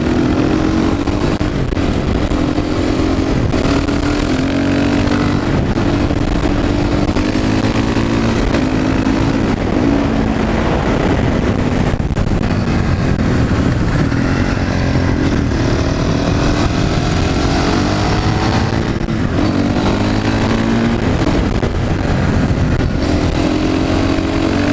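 Honda CRF450 supermoto bike accelerating on a road, its loud single-cylinder engine rising and falling in pitch through repeated gear pulls for the whole stretch, close and steady with no pauses.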